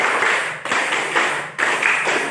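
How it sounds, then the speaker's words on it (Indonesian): A standing group of students in a home-learning class does the triangle clap (tepuk segitiga), with three bursts of rhythmic clapping separated by short pauses, close and fairly loud. "Tepuk segitiga."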